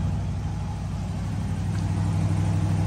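A 1964 Buick Skylark's engine idles close by, a steady low burbling exhaust rumble with an even, unbroken throb.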